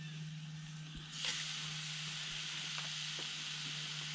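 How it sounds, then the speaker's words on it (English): Steady sizzling from steaks frying in a hot pan on a penny can stove, a continuous bright hiss with a few soft clinks, close and fairly quiet. "Pretty good sound and sizzle there."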